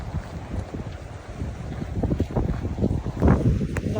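Waves washing and lapping on a lake shore near Tampere, Finland, a steady watery rush with wind buffeting the microphone, rising louder toward the end, with no talk.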